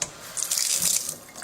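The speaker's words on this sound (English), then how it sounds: "And I'm going to turn the tap on." Water runs from a kitchen tap, a brief hissing splash that swells and then eases off, close and without any talking.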